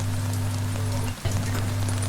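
Light rain falling outside on a quiet street in Italy at night, a steady soft hiss of drops that runs unbroken under a low constant hum.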